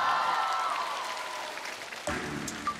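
An audience applauds after a rock band's performance in a televised band music competition. The broad clapping is fairly faint, thins out over a few seconds, and a brief sharper noise follows.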